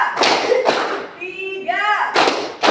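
Children in a classroom clapping game strike hands in short rhythmic bursts, loud and close, broken by a pause in which a voice chants a sung counting call between the claps.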